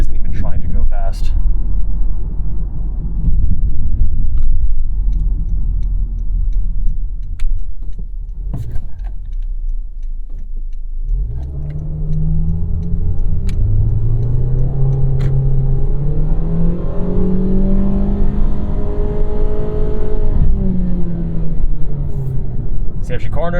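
Honda HR-V engine revving hard toward redline while cornering and trying to overtake, rising engine tone loud and close from inside the cabin with steady road rumble underneath.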